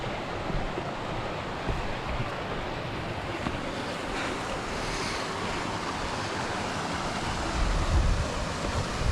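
Water rushes across the top of Lanka Ella waterfall in Sri Lanka, a constant broad roar mixed with wind buffeting the microphone, swelling slightly near the end, with no voices.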